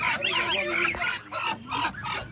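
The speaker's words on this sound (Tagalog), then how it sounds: "Gansa po yan." Repeated nasal goose honks and calls, close and fairly busy, in short bursts with brief pauses, with faint voices in the background.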